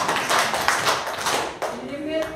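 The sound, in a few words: children clapping three times for a group in class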